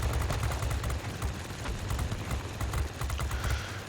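Rapid bursts of Spitfire Mk Ia low-caliber machine-gun fire in a flight combat game, a dense rattling fusillade that runs continuously and loud, with no voices over it.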